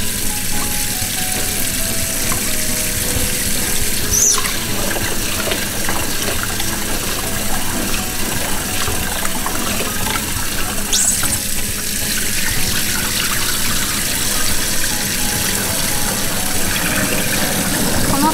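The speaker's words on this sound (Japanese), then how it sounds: "水を注ぎながら下から上に向けて10回かき混ぜて水を捨てます。" Rice being rinsed under running water for Hokkaido-grown rice, a steady loud flow of tap water with the grains stirred and drained, continuous and close with no talking.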